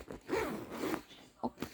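A bag zipper is pulled in a few quick rasping strokes, close by, with short pauses between pulls.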